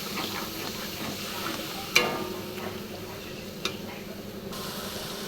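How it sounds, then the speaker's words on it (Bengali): A spoon stirs a soybean and potato curry with spices in a pan, with a soft steady sizzle and frying hiss underneath and a couple of sharp clinks of utensil against the pan, with no voices. "দিয়ে ভালো করে নাড়াচাড়া করবে। অল্প একটু জল দেবো, আবার ভালো করে নাড়াচাড়া করবে।"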